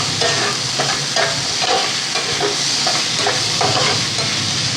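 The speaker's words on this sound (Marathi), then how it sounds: "सिमला मिर्च पण अशीच आता 3 ते 4 मिनटं ह्याला असंच परतायचं एकसारखं।" Capsicum and tomato are stir-fried in a pan, a loud steady sizzle broken by rhythmic scraping strokes of a spatula repeating about once a second.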